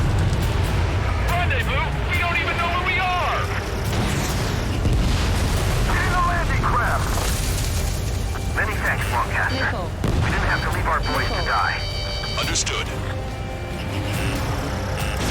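Missile launches and explosions in the Ace Combat 7 flight game rumble continuously under radio chatter, with booming detonations and bursts of whooshing fire layered over a constant loud roar of jet combat.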